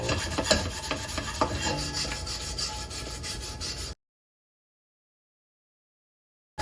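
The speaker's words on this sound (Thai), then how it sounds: "ถูเบาๆไม่ต้องไปกด มันแรง" Light scrubbing of a surface dampened with a little water, a continuous rasping rub close up for about four seconds, then silence.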